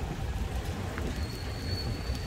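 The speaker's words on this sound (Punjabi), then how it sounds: "ਬਾਰਿਸ਼ ਜ਼ੋਰੋ ਸ਼ੋਰ ਨਾਲ ਹੋਣੀ ਸ਼ੁਰੂ ਹੋ ਗਈ ਭਾਅ ਜੀ" Heavy rain pours onto Al Rigga Street in Dubai, a dense, steady hiss and patter close around, with a faint low rumble beneath and no talking.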